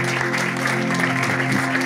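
A church congregation applauds in a dense, steady wash of clapping that holds at an even level throughout, with voices mixed faintly underneath.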